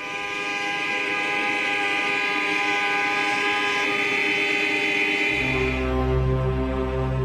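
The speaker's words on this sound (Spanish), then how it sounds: "Después protestan a bocinazos." Car horns blare in protest on a street in Berlin, a dense, unbroken wall of honking that holds steady and loud, then shifts to deeper, stronger tones near the end.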